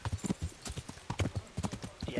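Horse hooves clip-clopping in an irregular, close walking rhythm in a video game, the horse Shadowmare at a steady gait, fairly faint and heard alone.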